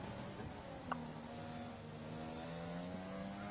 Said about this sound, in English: I'll spectate Rezify, because I don't want to hear the Red Bull engine scream at my face.